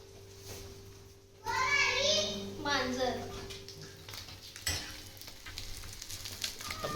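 Mandeli fish fry in a pan, Malvani style, with a steady sizzle that swells as a voice speaks over it before it settles into an even crackle.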